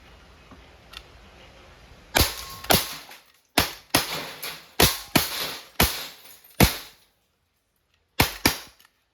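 An Umarex Glock 17 Gen 5 MOS CO2 airgun fires 4.5 mm steel BBs in ten sharp, close cracks, spaced irregularly with a pause before the final quick pair.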